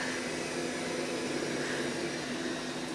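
A Roborock robot vacuum cleaner runs indoors with a quiet, even whooshing hum that holds steady throughout, no other sounds or voices.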